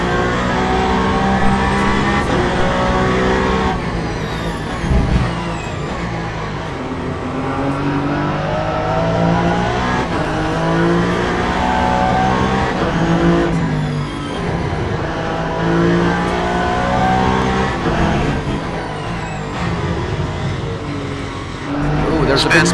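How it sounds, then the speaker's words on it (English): A race car in the sim racing game Le Mans Ultimate at the 8 Hours of Bahrain, engine whining and revving up and down through braking, downshifts and acceleration, loud and continuous with someone talking over it. "We're going to trail brake all the way here to this white line and gradually apply the throttle."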